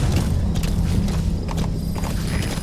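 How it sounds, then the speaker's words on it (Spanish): Horse hooves clip-clop steadily in Metal Gear Solid V: The Phantom Pain, a close, continuous trotting rhythm over low ambient game rumble. "Es caballito."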